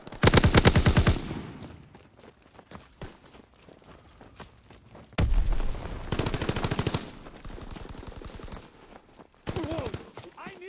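Machine gun fire in the Call of Duty WWII video game comes as loud rapid bursts, one at the start, another midway and a short final burst, with quieter clatter and battle noise between.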